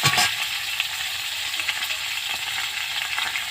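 Cauliflower pieces fry in a pan with a steady, crackling sizzle, close and even throughout, with faint stirring ticks underneath.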